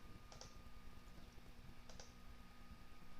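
Two short bursts of keystrokes on a computer keyboard, faint and close, over a steady low hum, with no talk.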